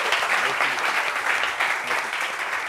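An audience claps for a web comedian guest at a talk-show style gathering, producing a thick, continuous wash of applause that holds steady at close range throughout.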